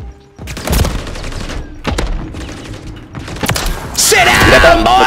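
Sniper rifle shots in a Search & Destroy first-person shooter match, a few sharp, loud reports spread across the moment, mixed with other game noise and a player talking throughout.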